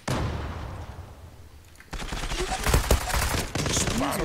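Bursts of gunfire in the game Zula crackle after a quiet pause, rapid shots layered with distorted game effects, loud and close.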